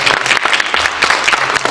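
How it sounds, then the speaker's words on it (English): A conference audience breaks into applause at a global business event, a dense, steady patter of many hands clapping close by, filling the whole short stretch without pause. "So I think let's give a big round of applause."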